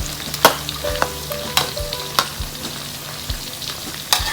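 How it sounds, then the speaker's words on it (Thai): Field rat deep frying in hot oil, a loud close crackle and bubbling sizzle punctuated by repeated sharp clanks of a utensil against the pan, with no voices. "อันนี้ทำกินเองครับ ไม่ได้ขายนะผม หนูนาทอดนะครับผม"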